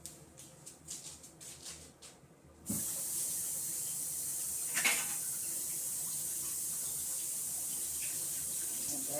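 A tap opens with a sudden rush and pours steadily into a sink as shampoo bar equipment is rinsed, after a few soft clinks and handling sounds, with a brief splash partway through.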